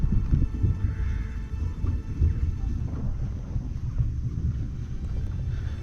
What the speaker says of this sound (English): The thunder seems to be getting louder more often